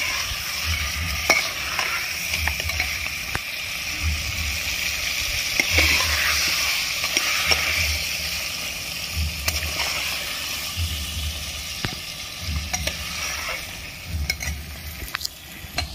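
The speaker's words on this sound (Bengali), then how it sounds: "মশলাটা ভালো করে আমার সব কষানো হয়ে গেছে" Spice masala sizzles and fries in hot oil in a pan while it is stirred and scraped in a steady repeating rhythm, heard close and continuous with no talking.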